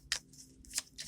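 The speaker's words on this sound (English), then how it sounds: "Kept shuffling and then even pull the card out." Two quick, crisp riffles of a deck of playing cards being shuffled, one near the start and one near the end.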